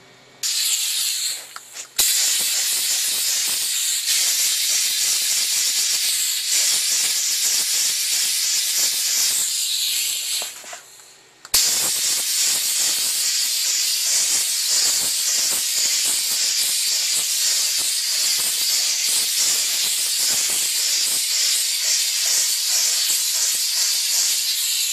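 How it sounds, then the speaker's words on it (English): A JNX-3000 car interior steam cleaner blasts grime out of a seat track with a loud, steady hiss. The jet cuts out briefly twice, then keeps spraying with small sputters and clicks. "We're just going to steam it and blow it all out."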